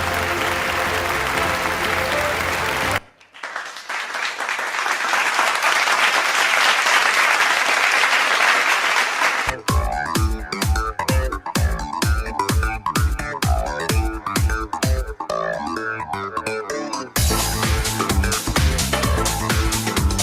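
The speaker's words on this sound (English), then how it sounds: "Let those hoots and applause continue." Applause with hoots from an awards-ceremony audience at a health and wellness marketing awards night, loud and sustained, broken by stretches of rhythmic stage music with beats.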